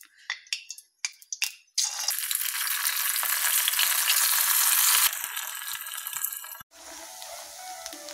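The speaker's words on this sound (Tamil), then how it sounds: "இதை எண்ணெயில் போட்டு எடுத்துக்கலாங்க. தேங்காய் எண்ணெய் ஊற்றிக்கோங்க" Idli pieces drop into hot coconut oil with a few sharp splashes, then break into a loud, steady sizzle of frying that eases off partway through and goes on more quietly.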